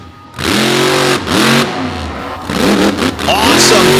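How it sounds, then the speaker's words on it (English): A monster truck with a big John Gulick engine revs hard on beach sand at a competition show, the loud roaring climbing and falling in repeated surges while a crowd and a commentator are heard faintly beneath it. "our final competitor would come flying out onto the sand with a big John Gulick horsepower in the back"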